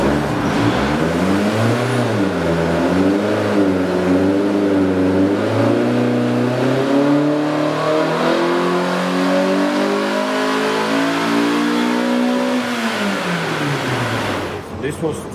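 A turbocharged Toyota AE86 engine revs hard on a dyno, its loud, steady roar climbing and wavering in pitch over several seconds before easing off sharply at the end.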